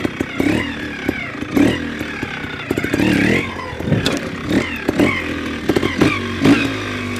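A vintage SWM motorcycle engine runs and revs close by, rising and falling in repeated throttle blips with clattering mechanical noise mixed in.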